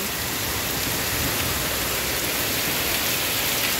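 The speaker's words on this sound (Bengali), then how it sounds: "শুধু বৃষ্টি দেখো, আমাদের উঠোনে জল কত জড়ো হয়েছে দেখো।" Heavy rain pours down on a courtyard where water is pooling, making a dense, steady roar of falling drops at an even, loud level with no voices.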